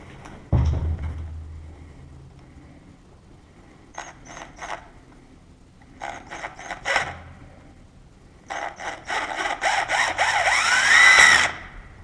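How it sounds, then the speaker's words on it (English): A power drill bores a larger hole into a car park fire door in short bursts: a thump, then several brief stuttering runs, ending in a longer, louder stretch of drilling, close up, with no talk. "we're going to have to drill a bigger hole"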